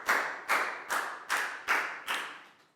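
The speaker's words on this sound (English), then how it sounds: "a big round of applause for our time" A round of applause from a primary school class rings out, heard as six evenly spaced, bright claps or clap bursts that fade gradually, with no talking over them.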